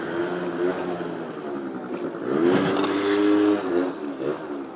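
A 50cc scooter with its stock exhaust revs nearby, the buzzing two-stroke engine note climbing in pitch, holding high, then dropping back over a few seconds.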